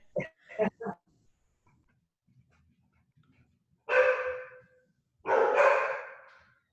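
A dog barks indoors while someone is outside trying to get in: three quick sharp barks, a pause, then two longer drawn-out barks or howls, loud and close, with no talk over them.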